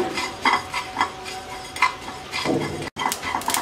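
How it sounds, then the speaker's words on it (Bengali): Spices, including fennel and radhuni, stir and rattle as they are lightly roasted in a dry pan, with scraping clinks of a utensil in irregular bursts, close by. "এই মশলাটাকে আমরা হালকা একটু ভেজে নেব"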